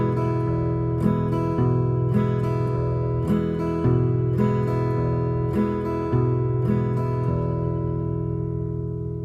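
A guitar plays an E-chord strum pattern, alternating single bass notes with bright strummed chords in a steady repeating rhythm, close and clear, then letting the last chord ring out.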